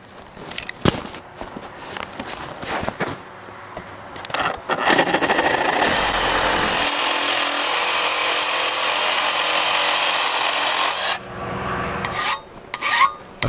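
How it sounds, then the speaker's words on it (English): A reciprocating saw cuts a steel frame piece for a lathe stand in a workshop. Scattered clanks and handling noises come first, then a loud, continuous rasping cut runs for about five seconds before stopping, followed by a few knocks. "We're just going to cut it with a regular reciprocating saw."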